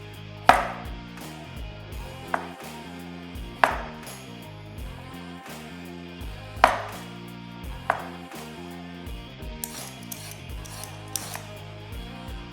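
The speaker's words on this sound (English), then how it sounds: "peel, and cut up some potatoes into cubes" Knife chops through peeled potatoes into cubes on a board, a handful of crisp, irregularly spaced cuts, close and distinct over soft background music, without talk.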